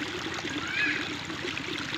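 Water flows and trickles along a channel through a rain-soaked Konkan rice paddy during monsoon planting, a steady close gurgling stream without speech.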